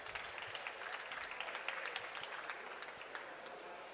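Audience applause at a COP27 youth adaptation awards ceremony, a steady wash of many hands clapping at moderate distance, continuous throughout with no talk over it.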